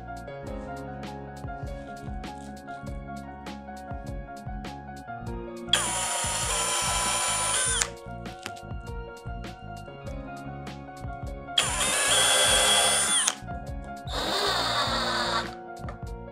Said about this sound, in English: Now on the drill press, I'm going to drill the holes with the Forstner bit.